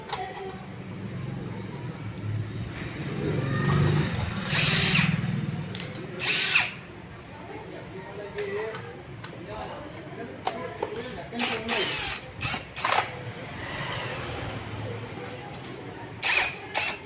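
A power tool whirs and ratchets in short repeated bursts while tightening three nuts on a ceiling fan cover during repair, with quiet pauses and faint talk between the bursts.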